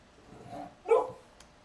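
A dog gives a single short bark, fairly close and moderately loud, after a softer low whine-like sound, in an otherwise quiet room.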